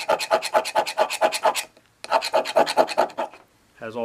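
Metal shavings scraped off a fire starter rod for bushcraft fire lighting: a series of rapid, rhythmic rasping strokes in two close bursts separated by a short pause, ending with a brief different sound.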